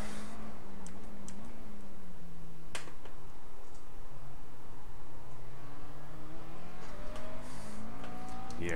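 McLaren race car engine lapping Donington in the iRacing sim, a continuous engine drone rising and falling through gear changes with sharp clicks scattered over it.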